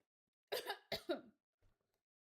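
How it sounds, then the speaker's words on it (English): A person coughs twice in quick succession, close and fairly loud, followed by a faint throat-clearing sound against a silent background. "the coughing is just me trying to adjust my voice"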